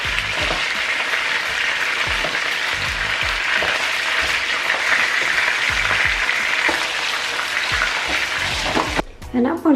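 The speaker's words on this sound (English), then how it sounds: "I'm just going to fry them until it goes brown for about 3 to 4 minutes each side" Chicken pieces fry in a pan for a roast chicken dish, a steady loud sizzle and crackle running throughout, with a brief clatter near the end.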